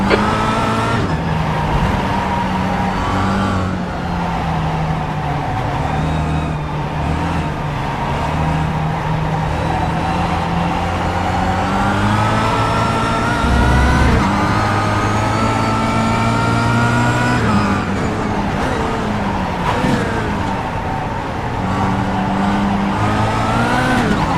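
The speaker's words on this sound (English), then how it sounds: "There's faster cars approaching." Race cars roar past at speed on a circuit during a race, engines droning loud and continuous with shifting pitch as several cars approach and pass, one after another.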